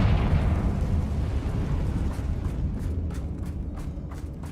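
A Confringo blasting spell goes off in the Hogwarts Legacy video game, a loud fiery explosion at the start that rumbles and decays over a few seconds, with faint crackling bursts trailing off.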